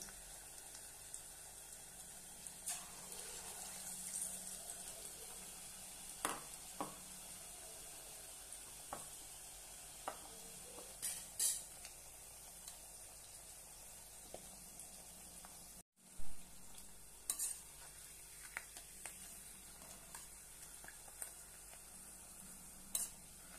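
Spinach pakoda fritters deep frying in hot oil: a continuous bright hissing sizzle with scattered pops and crackles, close by and low in level, steady throughout with a brief gap, no voices.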